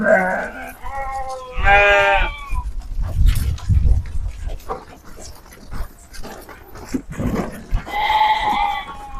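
Sheep bleat repeatedly while being herded toward a crowd pen on a farm in Kuningan, several loud close calls mixed with shuffling, panting and handling noises.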